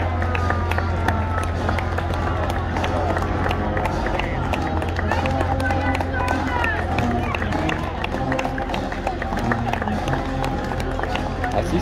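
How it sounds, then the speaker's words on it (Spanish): Dense, continuous clapping from a street crowd at a Fourth of July parade in the United States, steady throughout with general crowd murmur and some voices mixed in. "se ganan sus aplausos y la gente, pues, aquí fue muy feliz aplaudiendo"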